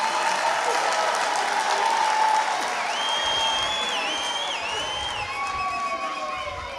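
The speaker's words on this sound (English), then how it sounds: "Can we please give the choir a big round of applause for" Audience applause for a choir at a university spring graduation ceremony, steady crowd clapping with some cheering that slowly tapers, while high whistling or ululating tones rise over it partway through.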